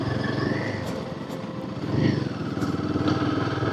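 A Royal Enfield Himalayan 450 motorcycle engine thrums steadily as it climbs a rain-slick, slippery forest route, rising briefly in revs, with wind rush and faint voices in the background.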